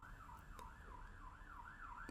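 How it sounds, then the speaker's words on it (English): Police car sirens wail outside, a faint, distant rising-and-falling tone cycling steadily about twice per second over low background noise, with no voices. "the police sirens started outside"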